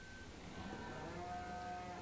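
Cattle mooing in the farming game Farming Simulator 17, a steady, moderately loud lowing that holds through the whole stretch with no talk over it.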